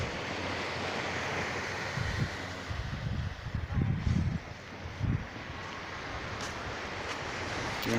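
Sea waves wash against the shore at Halayhay, with boats nearby, a continuous surf hiss overlaid by gusty wind buffeting the microphone and a few low rumbling bursts in the middle.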